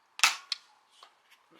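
A Nerf Elite 2.0 blaster fires a foam dart with a sharp close pop, followed by a few fainter clicks and taps as the dart lands.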